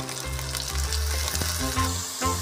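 Onions and beans fry in hot oil in a pan, a loud, continuous sizzle with occasional stirring scrapes throughout.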